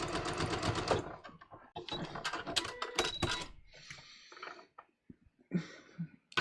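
A sewing machine stitches through two layers of fabric along a long welt on a welt pocket, running in short bursts of rapid mechanical clatter with pauses between them, close and fairly quiet.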